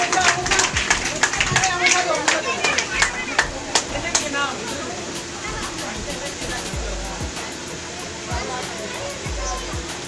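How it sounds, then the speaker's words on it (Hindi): Loud audience applause at a stage event, with sharp claps dense at first and then thinning out as talking carries on over the fading clapping. "जोरदार तालियां।"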